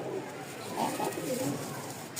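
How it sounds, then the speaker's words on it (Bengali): A black pigeon from Rajshahi, frightened, gives a few low, throaty coos close by, with faint murmuring in the background. "খুব সুন্দর একটা কালো কবুতর রাজশাহীর এই দেখেন ডাকটা"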